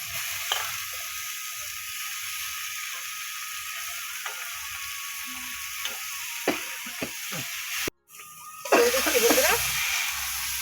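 Vegetables dropped into hot spiced oil for a tilapia curry, a soft steady sizzle with occasional clicks and stirring scrapes, a brief cut, then a louder burst of frying.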